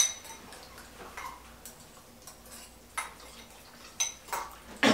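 Utensils tap and scrape against bowls while spicy ramen noodles are stirred, giving sparse, light clinks and ticks at an uneven pace, fairly close and quiet, with no talking.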